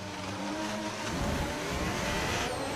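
A Haas racing car engine in a video game roars at high revs with a buzzy, harsh tone, steady and loud, with no talking.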